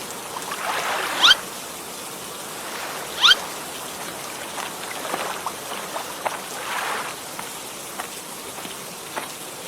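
Rain patters softly over a riverside boat landing in a cartoon scene. A few sharper splashes or knocks stand out near the start over a faint, steady wash of falling water.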